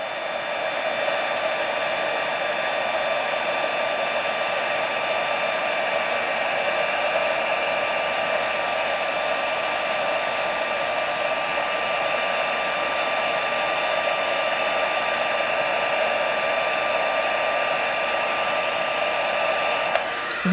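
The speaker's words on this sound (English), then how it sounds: "Let me shut my heat tool off." Heat tool blowing and melting embossing powder on paper butterflies, a loud steady whining hum like a hair dryer, running unbroken and close the whole time with no talking.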